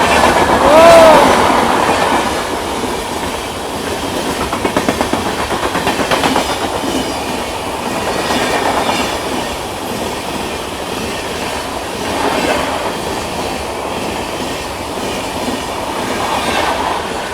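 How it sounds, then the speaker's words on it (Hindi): The Sabari Express, hauled by a WP7 locomotive, rushes past close by near Bandarupalli railway station: a loud, sustained rumble with rhythmic clickety-clack of wagons and brief wheel squeal at the start. "ये निकली आपकी सबरी एक्सप्रेस।"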